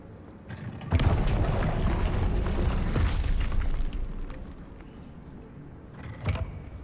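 A Confringo fire spell bursts in Hogwarts Legacy with a loud boom about a second in, its rumble sustained and fading, then a smaller burst near the end.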